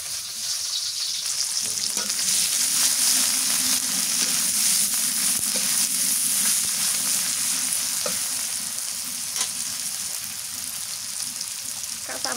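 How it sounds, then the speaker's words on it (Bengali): Onions sizzle steadily in a hot pan, a dense continuous frying hiss with occasional stirring scrapes, close and even throughout. "পেঁয়াজ দিলাম"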